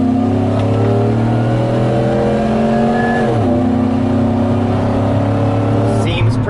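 Big truck running a factory engine tune accelerates hard at full throttle, its loud engine note climbing steadily in pitch, dipping briefly at a gear change, then rising again, with a voice talking over it.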